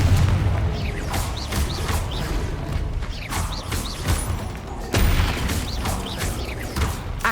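Bombarda and Confringo blasting spells in the Hogwarts Legacy video game, with repeated booming impacts and whooshing bursts at a steady rhythm over busy combat noise and music.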